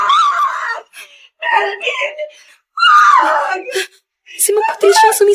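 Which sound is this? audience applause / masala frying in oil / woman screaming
woman screaming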